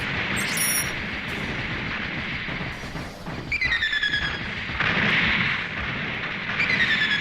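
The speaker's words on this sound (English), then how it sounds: "See, I'm getting mortared here." Mortar rounds pound the player in the Mobile Suit Gundam Online video game, a series of heavy booming impacts and dense rumbling blasts, with high-pitched warning squeals sweeping over the barrage.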